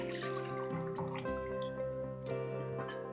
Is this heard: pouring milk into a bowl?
yes